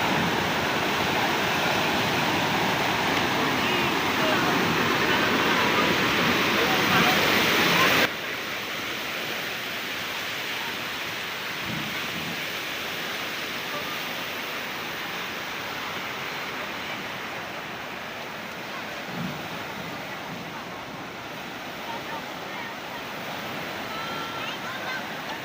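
Flood water in Bulacan rushes in a steady, broad roar, loud and close throughout, with its level dropping slightly after a sudden change partway through.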